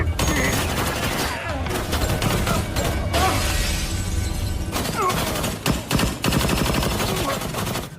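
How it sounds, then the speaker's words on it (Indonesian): Gunfight in a Tony Jaa action film against mafia gangsters, with continuous bursts of automatic gunfire, shots and shattering impacts filling the whole stretch, loud and dense. "dari sinilah baku tembak pun terjadi di tempat tersebut."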